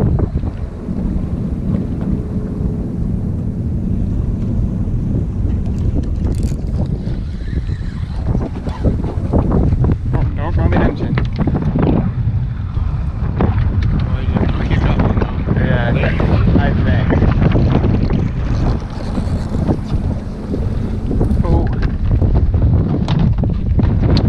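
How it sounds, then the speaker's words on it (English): Wind gusts roar across a microphone aboard a fishing boat on the Intracoastal Waterway near Fort Pierce, Florida, a constant loud buffeting rush with water and hull noise beneath. "Wind is blowing good."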